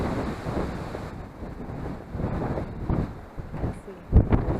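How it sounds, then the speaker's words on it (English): Strong wind buffets and roars in uneven gusts around an RV at Eagle RV Park, Thermopolis, Wyoming, with a sharp knock near the end from something hitting the RV roof. "it got super windy"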